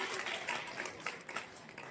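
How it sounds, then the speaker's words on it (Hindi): A crowd at a career fair lecture gives loud applause for the girls, a broad, continuous patter of many hands at moderate distance, with slight swells in intensity. "एक बार लड़कियों के लिए जोरदार तालियां"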